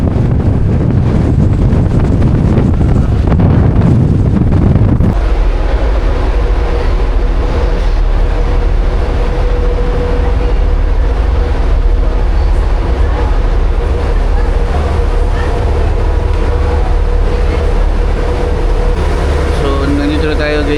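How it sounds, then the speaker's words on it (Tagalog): Heavy rain and strong wind buffet a ship at sea as the weather turns stormy and the waves rise, with a steady loud roar of wind noise on the microphone throughout. "Lakas ng ulan. Sumama na yung panahon guys. Tumaas yung alon."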